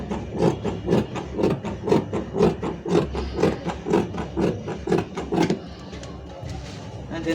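Blouse pattern darts being cut out make a regular run of repeated snipping cuts, about two per second, close and fairly loud, before fading into quieter handling.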